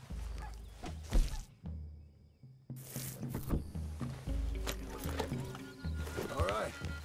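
Horse riding in Red Dead Redemption 2 near Valentine: hooves clip-clop and a horse whinnies amid game effects and music, with voices talking over the ride.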